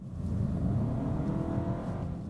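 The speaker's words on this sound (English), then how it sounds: "If I go to normal mode and floor it into traffic." A Honda Civic Hybrid engine roars steadily under full-throttle acceleration in normal mode, a dense low drone with a faint rising whine, loud and continuous throughout.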